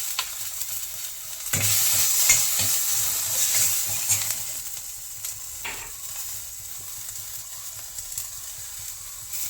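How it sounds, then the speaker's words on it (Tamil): Green chilli and ginger paste frying in sesame oil with mustard seeds and lentils, a hot sizzle that jumps up loudly as the paste goes in, then settles into a steady crackle with a few stirring knocks. "பச்சை மிளகா சேர்த்து வதக்கிறேன் இப்போது இஞ்சி பேஸ்ட்டு சேர்க்குறேன்"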